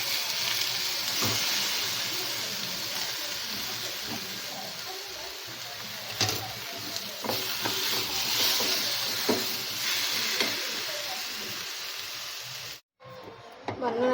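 Steady sizzling and crackling of tomatoes frying in a pan, with occasional stirring scrapes, continuous and close throughout.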